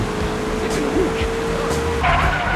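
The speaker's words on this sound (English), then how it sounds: "the car is braking so fast, and like look, I can't even reverse" A car in Grand Theft Auto brakes hard with engine hum and tire noise, a steady tone cutting off abruptly partway through, as someone talks over it.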